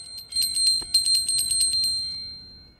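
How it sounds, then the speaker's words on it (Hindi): A grandmother's small hand bell rings loudly and close by, struck in a rapid run of about a dozen bright metallic dings that then ring out and fade. "देखा दादी के घंटी बाज गेल ना"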